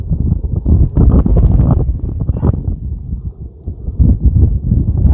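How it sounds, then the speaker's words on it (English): Strong gusts buffet the microphone on a rooftop during shingle repair, a loud, rumbling wind that rises and falls throughout. "Ooh, a little windy."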